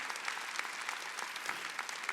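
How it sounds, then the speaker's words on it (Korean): A church congregation claps together during a Wednesday worship service, a steady dense patter of many hands at moderate level, continuous throughout with no voices standing out. "박수 치라고요."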